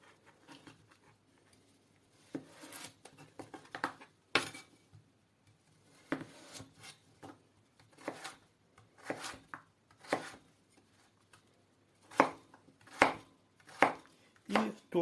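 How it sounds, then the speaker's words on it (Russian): Irregular knife chops dicing potatoes into small cubes on a cutting board, quick taps clustered in bursts with short pauses, close and fairly quiet, no talking. "Далее нарезаю картофель"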